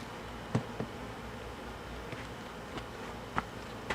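Honey bees buzzing around a hive tray during cleaning of a weak hive, a soft continuous hum close by with a few sharper taps and knocks scattered through it.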